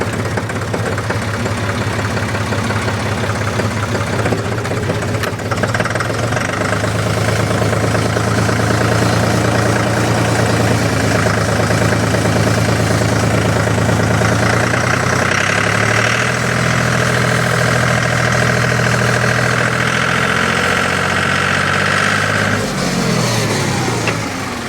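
A John Deere tractor engine runs steadily throughout, a loud, close mechanical drone with a knocking undertone that shifts in pitch as the machine moves, then dips near the end.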